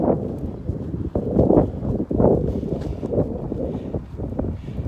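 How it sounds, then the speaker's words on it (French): Wind buffets the microphone in loud, continuous gusts and rumbles while a person walks a long route on foot, with no speech heard. "ça va faire une bonne petite heure que j'ai le vent dans la gueule"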